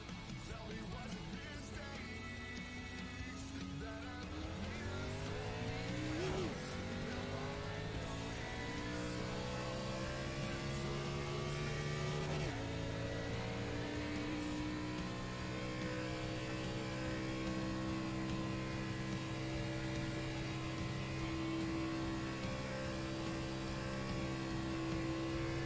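A stock car engine at Daytona in a racing video game climbs through the gears, a steady droning roar with rising and shifting pitch sweeps, moderately loud and continuous throughout.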